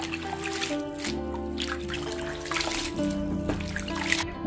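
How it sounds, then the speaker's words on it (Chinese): Cut daylilies are rinsed in clean water, with close trickling, dripping and sloshing as they are swished by hand, in irregular bursts of splashing. "剪好的黄花放清水里洗一下"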